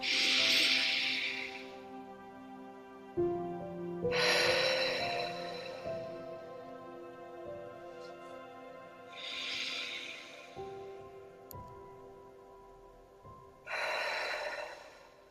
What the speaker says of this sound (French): Puis expire lentement par la bouche.